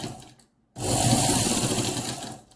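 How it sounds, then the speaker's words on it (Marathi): Sewing machine running a diagonal line of stitches through a baby quilt and its glued-on lining: a short burst, a brief pause, then a loud, steady whirring run close by. "इथून इथपर्यंत अशी तिरकी टीप मारून घ्यायची"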